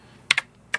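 Three sharp key presses on an E-Blue K753 budget backlit keyboard, two quick clicks close together followed by a single one after a short pause, crisp and close.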